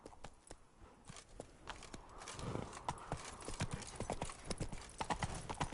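Roach, Geralt's horse in The Witcher 3, gallops along with steady, close hoof clip-clops that quicken and grow louder over a faint background bed, with no talking.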